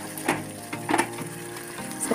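Potatoes, tomatoes and peas fry in a pan with a steady close sizzle while a utensil stirs them, giving a few scraping knocks against the pan.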